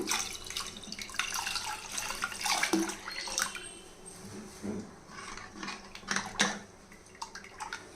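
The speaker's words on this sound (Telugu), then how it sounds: "ఇంకా కొంచెం నీళ్ళు పోస్తున్నాను" Water poured into tamarind lentil soup in a pot, a close, uneven splashing and trickling stream with a few louder bursts and drips, no voices.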